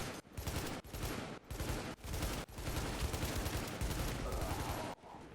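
An SA-58 rifle in The Division fires a run of close, loud bursts of shots, separated by short regular gaps and ending in a longer stretch of continuous fire, with no talk.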